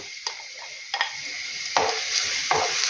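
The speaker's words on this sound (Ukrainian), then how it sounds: "буду показувати сюди цибулю, хай трошечки підсмажиться, але не дуже" Onion frying lightly in a pan, a steady hiss broken by four scraping stirs of a spoon, close up and with no voices.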